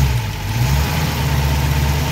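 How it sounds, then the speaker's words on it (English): A Studebaker Avanti engine, just after its valves were lashed, runs with a steady, rumbling low idle and a slight lift in revs, loud and close for a brief moment. "Give her a little rev."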